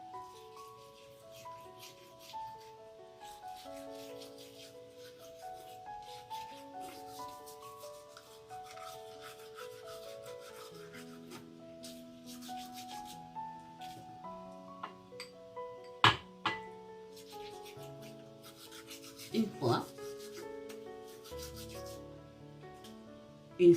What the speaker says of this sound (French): Vous allez tremper votre brosse à dents dans le jus de citron et vous allez brosser les dents délicatement.